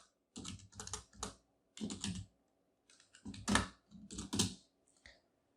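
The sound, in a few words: typing code on a computer keyboard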